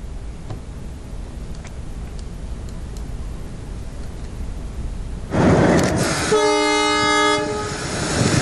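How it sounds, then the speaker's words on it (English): Gandhidham Express departing Kamakhya railway station in Assam: a steady rumble of the train for several seconds, then a loud, sustained multi-tone horn blast near the end over the rolling wagons. "A train, Gandhi Dham Express, was flagged off from Kamakhya railway station today by Mukesh Sahu"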